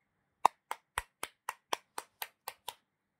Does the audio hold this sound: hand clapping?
yes